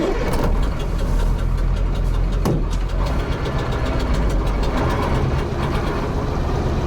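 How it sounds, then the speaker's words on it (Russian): Kolkhida truck engine running loud and steady in second gear on off-road tyres, with irregular knocking and rattling against the cab heard over the continuous drone. "Периодически что-то где-то цепляет и начинает стучать так по кабине."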